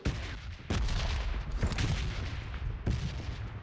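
Automatic AK rifle fire in PUBG, played on an emulator, comes in several loud, close bursts of rapid shots with short gaps between them, and no voices.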